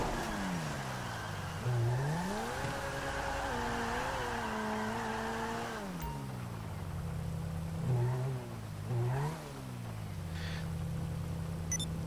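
A car engine in Grand Theft Auto V Online climbs through its revs, drops sharply on each gear change or lift-off, then revs again in several surges. It is moderately loud with no talk over it.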